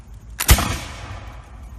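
A musket fires once at a Minute Man National Historical Park demonstration, a single sharp, loud outdoor report with a short booming decay.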